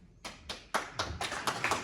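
Audience applause at a reception event: a handful of sparse, fairly faint handclaps at a steady quick pace, sounding like a few people clapping rather than a full crowd.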